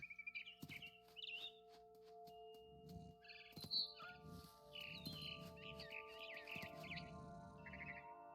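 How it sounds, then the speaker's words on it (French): Quick, high-pitched swallow chirps from the video game What Remains of Edith Finch come in scattered bursts over a quiet, steady musical background. "j'ai entendu gazouiller à la fenêtre. C'était une hirondelle qui retournait dans son nid."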